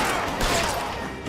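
Two loud, crackling gunshots burst out amid dense, noisy action in the video game L.A. Noire, with a sharp blast near the start and another shortly after.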